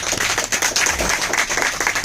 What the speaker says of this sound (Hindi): तो फिरोजाबाद वाले के लिए जोरदार ताली हो